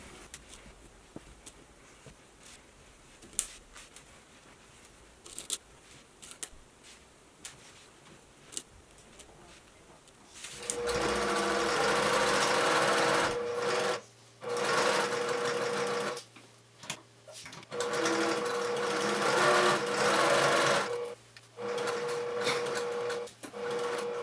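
Sewing machine stitching the gusset of a Shaw bag to the back panel: faint handling rustle, then a loud, steady motor-driven stitching rattle in several long runs separated by brief pauses.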